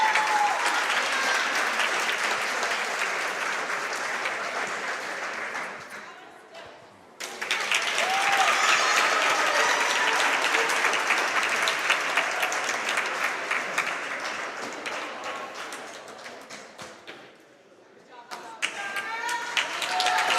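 A crowd applauds loudly and steadily at a children's basketball championship, the clapping fading briefly, then surging again and dying down toward the end.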